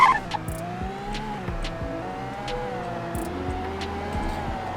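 A Lamborghini Aventador in the Roblox game Greenville, its engine droning steadily and shifting pitch as it gets up to speed, loud and close with no talk.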